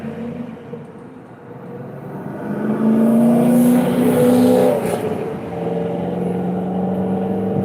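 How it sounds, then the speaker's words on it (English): A Corvette with a worn, loud exhaust rumbles past at close range, swelling to a deep drone mid-pass and then easing off as the driver lets off the gas. "Sounds like that vet needs some new exhaust."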